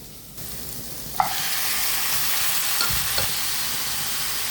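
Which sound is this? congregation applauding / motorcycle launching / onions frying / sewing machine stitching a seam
onions frying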